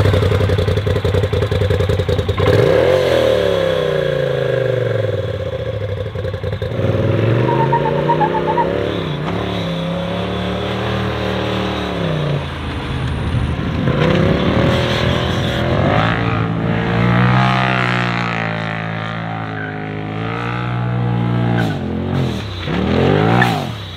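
A Yamaha Rhino side-by-side roars up close while driving on a ranch. Its engine climbs and falls through repeated rev surges and shifts, with rattling clatter over about twenty seconds.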